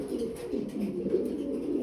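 Lahori pigeons at a farm coop give soft, low, throaty cooing close by, a brief rolling murmur with no speech.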